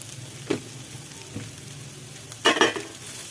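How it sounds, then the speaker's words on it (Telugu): Spices sizzle and fry in a pan of ice apple peel curry, a steady crackle with a few louder stirring bursts; no talking. "వేసి బాగా కలుపుకొని 2 నిమిషాలు వేగనివ్వాలి"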